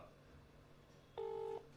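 A telephone dialing tone sounds once, a steady beep lasting under half a second after quiet line hiss, then another tone starts at the very end.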